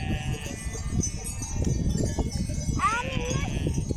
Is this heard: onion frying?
no